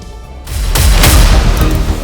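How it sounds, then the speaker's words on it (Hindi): Firecrackers burst during a street celebration by a group of young men outside a losing Shiv Sena candidate's house in Nashik. One loud, close, booming blast swells and rumbles on, with crackling. "कुछ युवक हारे हुए शिवसेना उम्मीदवार गणेश मोरे के घर के सामने पहुंचे और पटाखे फोड़कर जश्न मनाने लगे"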